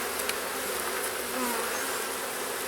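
A honeybee hive just opened in spring after winter, its bees giving off a steady, dense buzzing hum that fills the whole moment, close and continuous with no talking.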